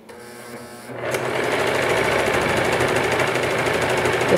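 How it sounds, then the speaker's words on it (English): A serger stitches a bag seam with its knife not cutting, starting after a short pause and then running as a steady, close, loud mechanical whir with no talking. "The sound of the serger is a little bit different."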